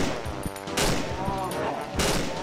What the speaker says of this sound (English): that was the gun